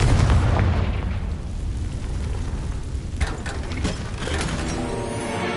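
A Confringo fire spell blast in a wizarding video game, with a booming explosive burst that rumbles and crackles for a few seconds, followed by a second sharper impact and fading debris.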